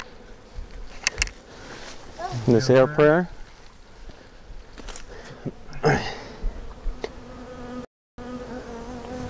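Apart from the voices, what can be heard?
honey bee swarm buzzing during removal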